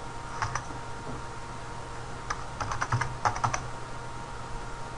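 Typing on a computer keyboard, with short bursts of crisp key clicks separated by pauses and a faint steady hum underneath, close and fairly quiet, with no voices.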